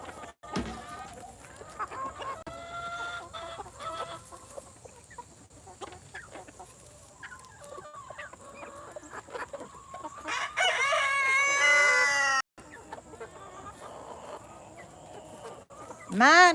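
Backyard chickens cluck steadily while a rooster crows loudly in bursts near the end, with someone talking over the flock throughout.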